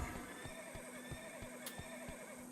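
A horse in the video game Black Desert gives a faint, drawn-out whinny, with rhythmic clip-clop hoofbeats steadily underneath and a low ambient game background.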